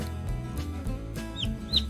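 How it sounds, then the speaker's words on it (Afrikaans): A hen clucks in a soft, rhythmic series of low calls over a steady background of music, with a couple of brief higher chirps near the end. "Die mamma hen sit op die eiers om hulle warm te hou."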